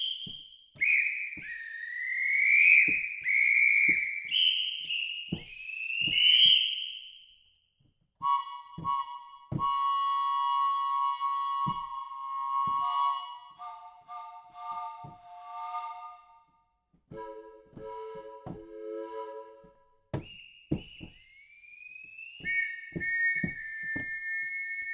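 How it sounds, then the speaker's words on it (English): Whistle and bird call effects from a percussion sample library play in turn: chirpy warbling calls, then sustained steady whistle tones and sliding pitched whistles, separated by brief pauses, clear and close. "effects like whistles, bird calls, and flutes"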